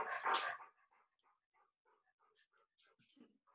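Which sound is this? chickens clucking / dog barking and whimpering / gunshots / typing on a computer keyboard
dog barking and whimpering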